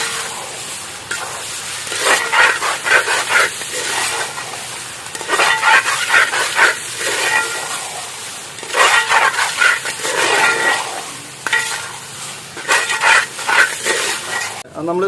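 Chopped tomatoes are sautéed and stirred in a pan for a village-style pepper chicken. Repeated bursts of scraping and stirring come close and fairly loud over a soft, continuous sizzle.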